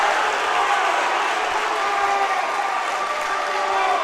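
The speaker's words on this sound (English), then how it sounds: "And the crowd here explodes to life." A crowd at a high school boys' varsity basketball tournament game claps and cheers after an and-one layup, a steady burst of applause throughout.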